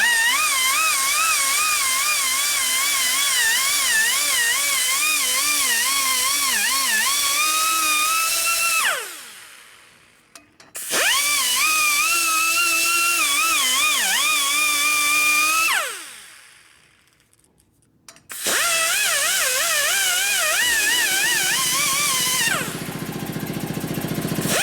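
A high-pitched rotary tool with a burr grinds on a 1980 Harley Sportster ironhead cylinder head, a close, loud whine that wavers in pitch under load, cuts out twice for a few seconds, then spins up again.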